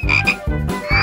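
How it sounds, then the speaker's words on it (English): Frog croaking in three loud, close, raspy bursts in quick succession, with no other sound around them. "What should I do with my frog?"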